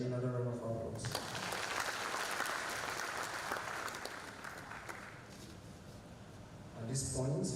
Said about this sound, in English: May we please give the clergy another round of applause.